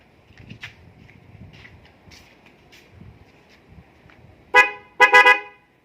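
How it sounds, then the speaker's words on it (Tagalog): Paired MOCC snail car horns wired with a relay, two loud, bright honks near the end, a short blast followed by a longer one, after quiet background noise. "Yan yung MOCC horn."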